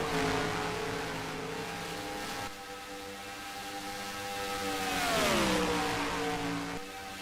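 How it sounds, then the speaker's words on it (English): Video game racing car engines at Talladega Superspeedway roar and rev continuously, pitch rising and falling as cars speed past, with a steady droning mix throughout. "It's just kind of fun to hear these cars going neom."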